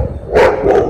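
Two brown Labradors bark outdoors, two loud bursts of barking in under a second with a steady low background.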